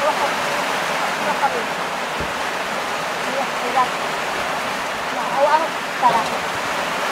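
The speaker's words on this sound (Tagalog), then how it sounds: "Sorry po, lakas kasi ng ulan eh." Heavy rain pours in a steady broadband hiss, with faint voices talking intermittently beneath the downpour.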